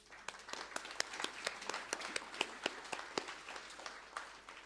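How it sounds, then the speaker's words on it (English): Scattered applause from an audience at a housing hui in Otahuhu Town Hall, a modest crowd clapping in sharp, uneven bursts that sound fairly distant and thin in the hall. "Can we just give a round of applause to the collective?"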